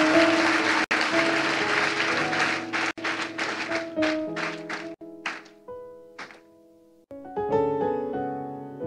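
Church congregation applauding during a worship service, a dense burst of clapping that breaks off and resumes in several waves, with sustained musical tones ringing underneath, fairly loud and full.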